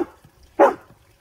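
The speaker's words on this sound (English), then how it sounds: "What are you barking at?" A Labrador puppy barking at birds gives a single sharp, close bark in an otherwise quiet moment.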